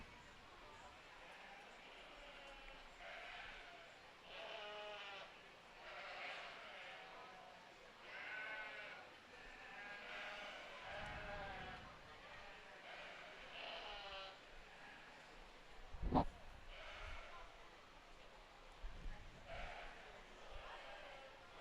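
Sheep bleat repeatedly in a county fair sheep show barn, their wavering calls rising and falling across a moderately distant, busy space. Occasional thumps and low clatter punctuate the scene, with no speech.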